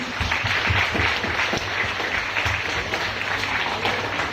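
A school Teacher's Day audience gives the teachers a dense, steady round of applause, many hands clapping together at a moderate, even level for the whole stretch.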